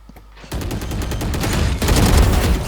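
Valorant gunfire erupts in rapid, dense bursts of automatic shots that run close and loud, growing heavier toward the end.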